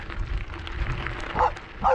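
Dogs bark along a rural Texas road near Gainesville, a few sharp nearby barks and yips in quick succession.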